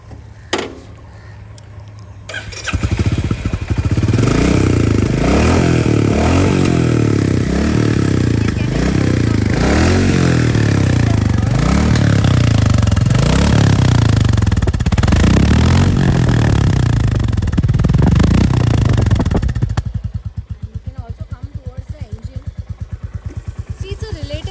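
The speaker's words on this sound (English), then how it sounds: "It has a thump, but I'll be silent for some time so that you can notice that engine thump out here." A new Royal Enfield Classic 350 motorcycle engine starts up and runs with a rhythmic, swelling low thump and mechanical clatter, loud and close for about seventeen seconds, then cuts off, with brief speech around it.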